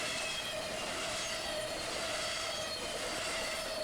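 A freight train hauling intermodal containers passes, giving a steady, continuous roar of rolling cars with a faint high tonal whine running through it.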